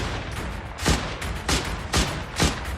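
Close-range gunfire in a combat zone where Islamic State fighters are firing back: four loud, sharp shots spaced about half a second apart, with no talking.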